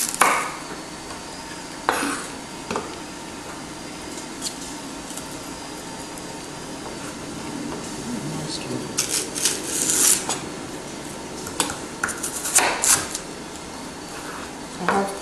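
A knife dices celery stalks on a cutting board, making scattered light taps and clicks over a low room hiss, with a denser cluster of quick chops toward the end.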